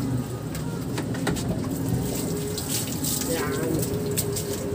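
Water runs steadily from a tap while a dog is bathed, a constant close splashing hiss with birds cooing in the background and faint voices.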